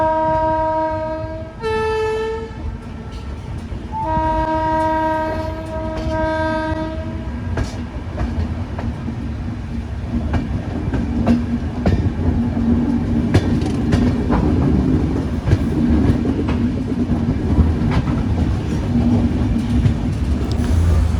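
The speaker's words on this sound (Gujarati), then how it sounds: "તો અત્યારે ટ્રેન ઉપડી ગઈ છે અમારી" A passenger train pulls away from Rajkot toward Ahmedabad. Two loud horn blasts come first, then a steady rolling rumble with rhythmic wheel clatter that builds as the train gathers speed.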